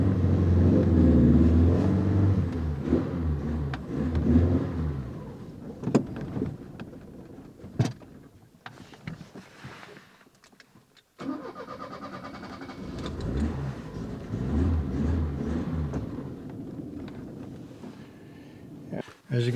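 An Opel Ascona's engine rumbles and revs on a test drive, faltering and cutting out before picking up again, with someone talking over it throughout.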